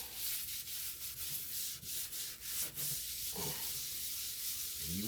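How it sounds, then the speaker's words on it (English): A dirty glass-top stove is scrubbed by hand, with a continuous close rasping rub and small shifts in stroke across the surface. "Rubbing it and scrubbing it at the same time."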